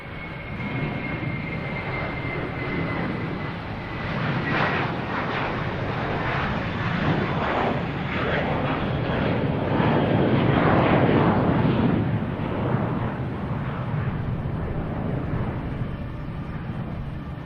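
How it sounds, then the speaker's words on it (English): A JetBlue jet airliner takes off at Boston Logan Airport, its engines a broad, sustained roar that swells gradually and holds steady throughout, with no talking. "Next taking off, we have JetBlue heading to West Palm Beach"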